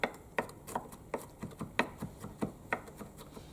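Knife chopping garlic into smaller pieces on a board in a school kitchen, a steady series of about ten sharp, close taps spaced roughly a third of a second apart, with no talking.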